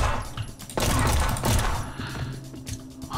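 Gunfire in the video game XIII Remake: a couple of heavy, booming shots with dense low rumble and impact clutter, loud and close, lasting only a few seconds.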